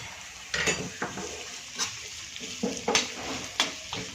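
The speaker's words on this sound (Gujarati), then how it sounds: "સૂજીને આપણે આમાં શેકી લઈશું" Semolina toasting in hot ghee in a pan for a Diwali gugra sweet, with a utensil scraping and clinking against the pan in irregular strokes over a soft sizzle, close by and with no talking.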